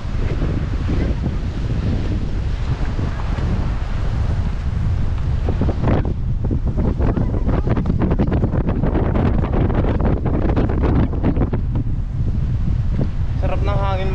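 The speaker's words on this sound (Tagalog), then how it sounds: "Fresh ko ng hangin." Strong wind sweeping across a beach where waves wash ashore, a constant blustery roar with surf rumbling underneath and brief bits of talk mixed in.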